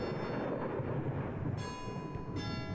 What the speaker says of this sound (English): Is that a clock? Is that someone ringing the doorbell? That's a clock.